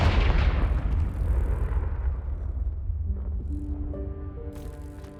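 A Confringo fire spell bursting in Hogwarts Legacy: a heavy, booming blast that rumbles and fades over several seconds, then a soft rising chime of game tones near the end.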